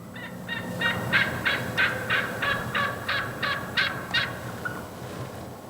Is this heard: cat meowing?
no